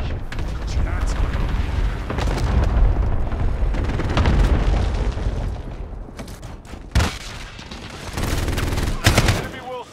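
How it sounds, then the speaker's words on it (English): Heavy gunfire and booming cluster-strike blasts in a Call of Duty: Modern Warfare Dropzone match, with dense continuous firing, several loud impact bursts near the end, and voices calling out over the battle noise. "Enemy cluster strike incoming!"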